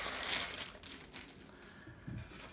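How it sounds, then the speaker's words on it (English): A plastic bag around a BoYata laptop stand crinkles and crackles steadily near the microphone while the stand is unpacked, in a continuous dense rustle with a few heavier crunches. "So once I take it out of the plastic bag"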